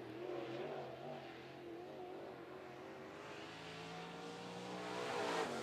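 A crate late model race car, number 79C, screams around a speedway on a qualifying lap, its engine note rising and falling as it passes at a distance, then swelling louder toward the end.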